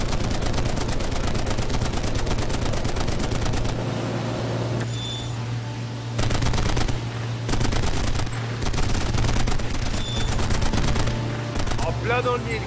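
Gunfire in the video game Conflict: Denied Ops: sustained rapid machine-gun fusillades rattle almost continuously over a low steady hum, loud and close, with brief pauses between bursts.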